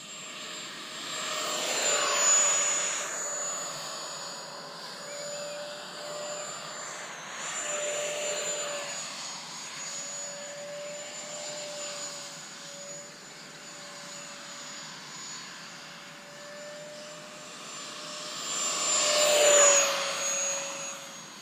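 An RC model F/18 Hornet jet flies with a steady high whine from its ducted fan, swelling louder on close passes near the start and end and easing off between them, with no talk.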